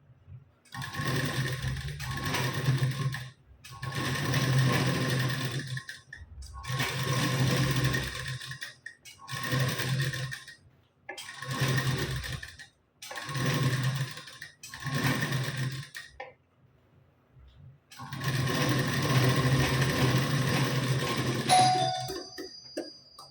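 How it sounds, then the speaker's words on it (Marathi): Sewing machine stitching along a folded blouse sleeve, running in repeated bursts of a few seconds each separated by short pauses, steady and close, with no talk. "इथे मी इथून शिलाई द्यायला सुरुवात करते"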